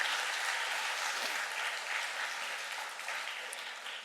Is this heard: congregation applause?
yes